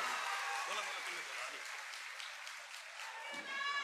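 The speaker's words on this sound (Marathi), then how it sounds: "त्यांच्यासाठी टाळ्या वाजवाव्यात." Distant crowd applause at a political campaign rally in Maval, a soft, steady wash of many hands clapping for several seconds at low volume.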